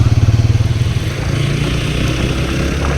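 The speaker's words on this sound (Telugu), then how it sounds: "ఆఫ్ రోడ్లో బైక్ డ్రైవ్ చేస్తున్నప్పుడు సస్పెన్షన్ చాలా స్మూత్గా ఉంది." A 2024 TVS Apache 160 4V with dual-channel ABS rides off-road, its engine a loud, close, steady drone with rapid pulsing at first, then an even rumble throughout.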